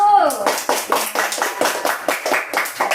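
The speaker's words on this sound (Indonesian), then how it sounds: "Kita berikan tepuk tangan untuk kelompok 1." Classroom group clapping for the first group during a teacher-training performance assessment, a burst of rhythmic hand claps that are close and fairly loud, with a voice speaking briefly at the start.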